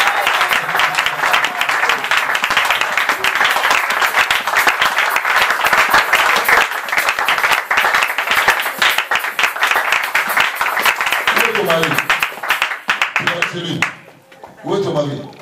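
A church congregation applauding, dense continuous clapping from many people that fills the room for most of the stretch, then thins out as voices begin to be heard near the end.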